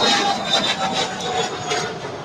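Jet airliner taking off from runway 25 left at LAX, a loud continuous broadband engine roar heard close and steady throughout.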